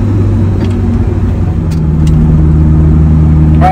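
Alfa Romeo 4C exhaust under full throttle from 25 to 50, a loud, close, steady engine drone that rises gradually in pitch as the car accelerates, with no talk over it.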